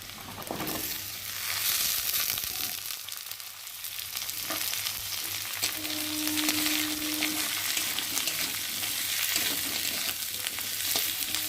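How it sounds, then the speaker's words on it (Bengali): Chopped potatoes fry in oil with browned garlic and onion, producing a loud, continuous sizzle with occasional stirring throughout. "আর এখন আমি দিয়ে দেবো কেটে রাখা আলু"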